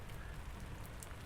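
Steady rain falls in the video game A Summer's End, a dense, even patter that stays constant and fairly quiet throughout, with no voices.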